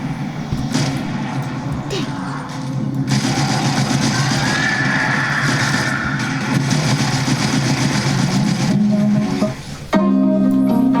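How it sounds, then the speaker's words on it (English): Destiny 2 gameplay plays through BenQ EX2780Q monitor speakers, a dense steady wash of game music and effects with a low hum, continuous and fairly loud, ending in a brief shift of tones. "Here I am playing Destiny 2,"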